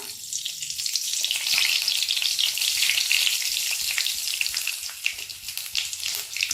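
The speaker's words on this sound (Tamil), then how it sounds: "ஸோ நம்மளோட எண்ணெய் காஞ்சிருச்சு. ஸோ இப்போ என்ன பண்ணுவோம், நம்ம எடுத்து வச்சிருக்க கடுகை போட்டுடலாம்." Mustard seeds sizzle and crackle in hot oil in a pan, a continuous close frying hiss with scattered small pops, no voices.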